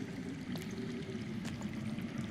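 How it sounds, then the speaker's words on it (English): Steady underground water flowing in a Game of Thrones video game, a continuous low rushing stream with faint trickles, moderately quiet and unbroken throughout. "That's water. I hear water. From underground."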